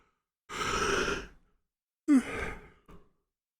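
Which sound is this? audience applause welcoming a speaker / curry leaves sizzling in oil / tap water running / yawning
yawning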